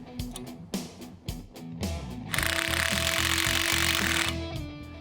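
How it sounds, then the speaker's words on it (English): A Goodson digital valve spring compressor works on valve springs for a 6.4L Gen III HEMI, giving short rattling pneumatic bursts followed by a sustained loud hiss of about two seconds, with no talking. "The Intercom digital valve spring compressor from Goodson makes this job a snap."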